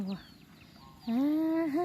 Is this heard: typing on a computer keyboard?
no